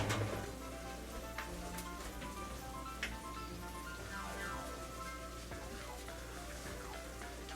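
A jalapeño green bean casserole just out of the oven sizzles and crackles steadily, a soft, dense hiss with scattered pops and some faint clatter, heard alone at moderate to low loudness.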